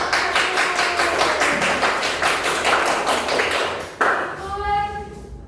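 A classroom of students claps after a group presentation, rapid dense hand claps close and loud for about four seconds, then quickly dying away with a short ringing tone at the end.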